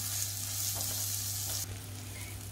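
Chopped green chili with salt and black pepper sautéing in a pan, a soft steady sizzle with a few light stirring scrapes, no voices.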